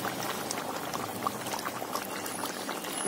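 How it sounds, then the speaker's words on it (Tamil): Pepper garlic chicken curry boils steadily in a covered pot, a continuous bubbling and simmering hiss with small pops, close and moderately loud throughout. "நல்லா கொதிச்சுட்டு இருக்கும்னு நினைக்கிறேன்."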